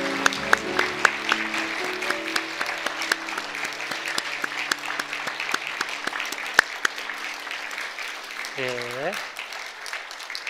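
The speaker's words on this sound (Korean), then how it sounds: "다시 한 번 더 우리 격려의 박수 드리겠습니다." A church congregation claps in steady, dense applause that fills most of the stretch and then fades out. A voice speaks briefly near the end.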